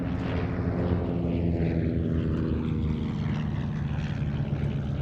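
Propeller aircraft making a crossing break at the RAF Cosford air show, its engine droning and buzzing steadily overhead, fairly close, with the pitch sliding down as it passes, no voices.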